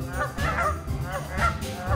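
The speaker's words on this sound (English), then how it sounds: "Here's my dog trying to harass the geese in the local park." Several geese in a park honk loudly and repeatedly close by, overlapping nasal calls over a low outdoor rumble.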